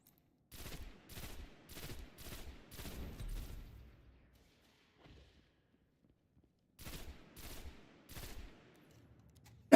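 Automatic gunfire from a weapon in the video game Destiny: The Taken King, fired in rapid bursts. One long string of shots is followed by a quiet gap, then a second, shorter string.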